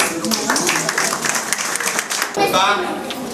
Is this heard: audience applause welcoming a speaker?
yes